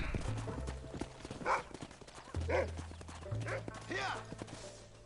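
Horse hooves clip-clop in the Western video game Red Dead Redemption, a few uneven steps heard faintly beneath game music and voices talking over them.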